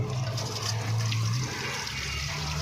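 Water from a hose rushes steadily through the heater radiator of a Pars, Samand or Peugeot 405 car during flushing, a continuous close hiss and gurgle with a low hum beneath.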